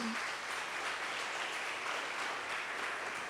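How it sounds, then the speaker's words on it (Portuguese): Church congregation applauding after a sermon, a soft, even wash of many hands clapping heard from a distance at low volume, unbroken for a few seconds. "Vamos aplaudir o Senhor, que Ele merece."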